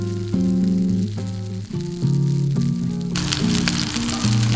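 A delicate vegetarian pea and potato patty is pan-fried in shallow oil. Its soft hiss rises clearly over background music about three seconds in and continues as a steady sizzle under the tones.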